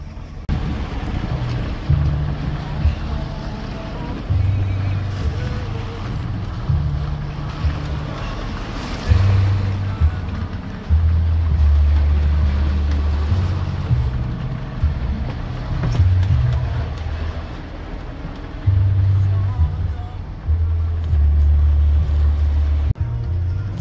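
A sailboat motors along under engine on open water, a steady low drone with wind and wave wash over it, rising and dipping in pulses.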